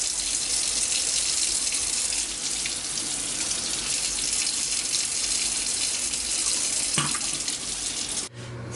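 Tap water running over peeled yams being washed in a kitchen sink, a loud continuous gush for about eight seconds that cuts off abruptly near the end.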